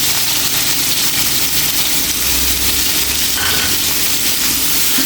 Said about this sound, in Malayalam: അതേ എണ്ണയിലേക്ക് തന്നെ നമുക്ക് ഒരു 4 സവാള അരിഞ്ഞതിട്ട് കൊടുക്കും.